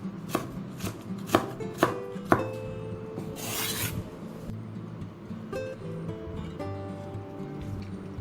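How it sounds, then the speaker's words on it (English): Knife chopping bird's eye chillies for parippu vada on a board: a few sharp, close chops early on, then quieter cutting and rubbing under background hum. "I'm not cutting these chillies fine"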